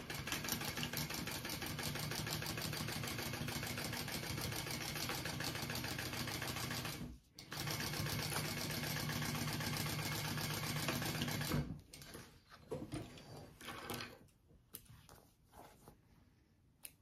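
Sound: sewing machine sewing at the seam allowance

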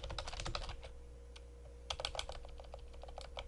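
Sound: typing on a computer keyboard

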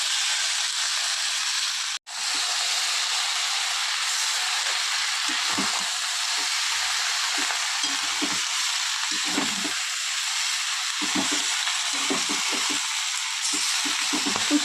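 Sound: sizzling spices and Malabar spinach frying in pan

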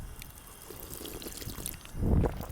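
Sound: drinking fountain water running

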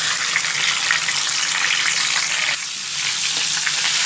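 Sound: catla fish heads frying in oil

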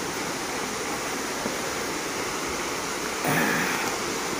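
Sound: Irenggolo waterfall in Kediri

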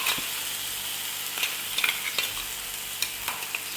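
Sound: masala being stir-fried in hot oil

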